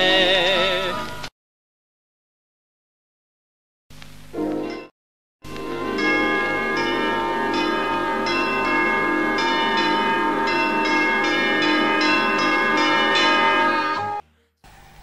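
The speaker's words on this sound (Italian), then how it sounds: "si sveglia la città con le campane." Church bells ring out over a town square on a Sunday, a dense, resonant peal of repeated strikes that fills the space after a brief silent gap, steady and loud before cutting off near the end.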